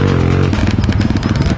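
A motorcycle engine sounds close by in a short burst. A steady low hum shifts into a rapid, uneven putter with a rattly, clattering edge.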